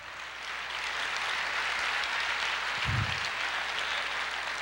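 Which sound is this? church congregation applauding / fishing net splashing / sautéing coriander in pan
church congregation applauding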